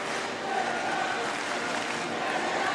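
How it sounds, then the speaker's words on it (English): Crowd at a Paralympic wheelchair tennis match cheering and chanting a player's name, a dense continuous roar of many voices that stays steady and fairly loud throughout. "you can hear the crowd already chanting her name"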